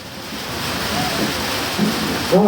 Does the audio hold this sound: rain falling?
yes